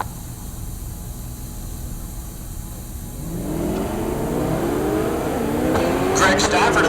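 A drag racing car launches down the strip at Heartland Park Topeka, its engine climbing from quiet into a loud, rising roar with a few revving upshifts in the second half, over steady crowd and track noise.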